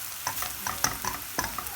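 Onions stirred and frying in a pan as they are cooked until dark and nearly burnt, a steady close sizzle broken by several sharp scraping stir strokes.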